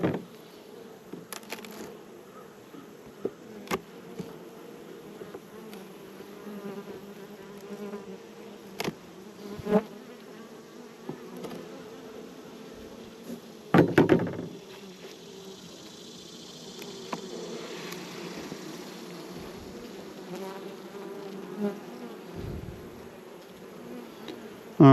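Honeybees buzzing during a hive inspection, a steady insect drone that stays close throughout, with occasional louder bees passing near and a few brief knocks.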